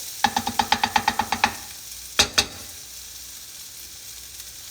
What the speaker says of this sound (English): Give that a little stir, a little back and forth.